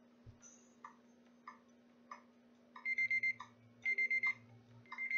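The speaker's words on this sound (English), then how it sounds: "That is the timer." A 30-minute timer set during a baccarat betting session goes off with quick electronic beeps in repeated bursts of four over a faint steady ticking, moderately quiet and with no one speaking.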